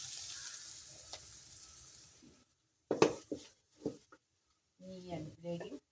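Thoran being stirred in a pan with its ground coconut paste mixed in: a soft sizzle fades out, then sharp scrapes and clinks of a utensil against the pan come in separate bursts, with a voice speaking near the end.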